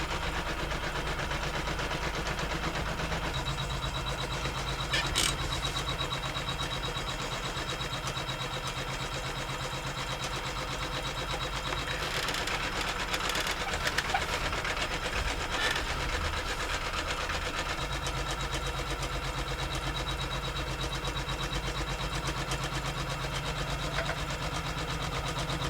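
A home embroidery machine stitches the first colorway placement line of an in-the-hoop wallet, running as a steady mechanical whir with a fast, even needle rhythm and a few sharper clicks, close and continuous throughout.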